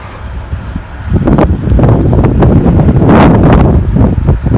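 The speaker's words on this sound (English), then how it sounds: "A little bit windy here." Strong wind buffets the microphone in heavy roaring gusts that swell and subside, loud and close, with no voices, outdoors on a snowy road.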